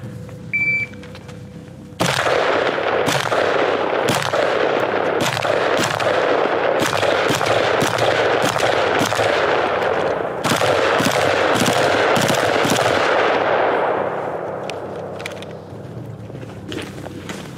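A Bushmaster ACR rifle fires on full auto outdoors in loud, rapid bursts that run nearly unbroken for about twelve seconds, with brief gaps between bursts, before the reports trail off.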